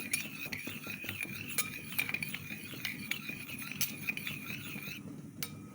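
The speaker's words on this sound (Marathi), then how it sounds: "त्यात आता मी अर्धा चमचा साखर घालत आहे आता आपल्याला हे हलवून घ्यायचे आहे" A spoon clinks repeatedly against the side of a glass in quick, uneven strokes while stirring sugar into water, fairly close and quiet.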